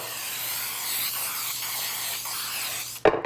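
Cooking spray hisses from a can in one steady, close burst as it greases a 9 by 13 inch baking dish, ending abruptly with a short clatter.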